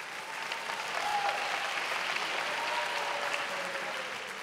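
Applause from a delegate audience during a formal conference voting session, a steady, dense wash of clapping that holds at an even level throughout without talk.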